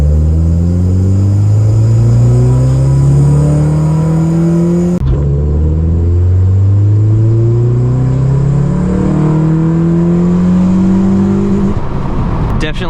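A tuned 9th gen Honda Civic Si with an e-tune and added timing revs hard and close, its pitch climbing steadily through the gears with a brief break around the shift, loud and continuous throughout.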